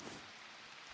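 Steady rain pouring in the Prologue: Go Wayback! video game, a dense even hiss of drops hitting surfaces, faint and continuous with no talk.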